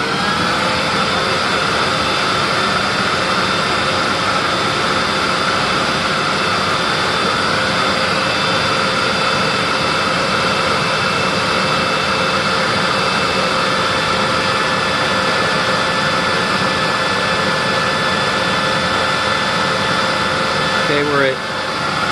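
A Bosch Formula Electro Duo vacuum cleaner running at full power, a loud, steady, high-pitched motor whine and airflow roar that stays constant and close throughout.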